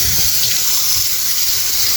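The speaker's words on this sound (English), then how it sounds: "Next, we add hot water." Hot water poured into a pot of rice, a steady loud splashing gush running continuously at close range, no voices.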